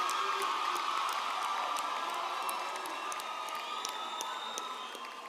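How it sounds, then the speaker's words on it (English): Graduates at a Faculty of Applied Sciences graduation ceremony cheer, whoop and applaud as a large, reverberant crowd. The roar stays full before slowly tapering toward the end. "you owe it to yourselves to give a massive round of applause"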